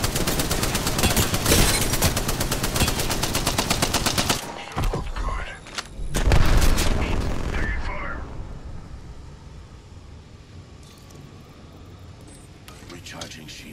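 Rapid automatic gunfire rattles loudly in an Apex Legends match, a dense burst lasting several seconds before scattered shots, a heavy boom and a fading rumble, with speech mixed in.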